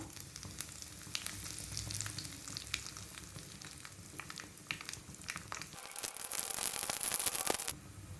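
Curry leaves and dried red chilies sizzle in hot oil for a tempering over mustard seeds, a steady crackling fry with a sharper burst of spitting near the end.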